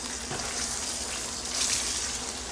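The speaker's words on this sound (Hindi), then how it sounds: "अब मैं इसमें अदरक लहसुन का पेस्ट डाल दूंगी और इसको भी 1 मिनट तक भून लूँगी" Ginger garlic paste frying with chicken pieces in a karahi for Multani-style chicken karahi, a steady close hiss and crackle of hot oil sizzling without a break, no talking.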